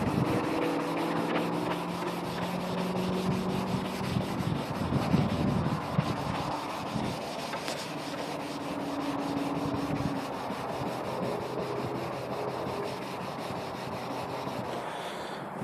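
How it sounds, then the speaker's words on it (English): Steady rubbing and scraping of sandpaper over a lacquered cabinet door, a soft, close, continuous back-and-forth texture at low level with no talk. "You want to lightly sand it so you can get rid of the shine from the lacquer."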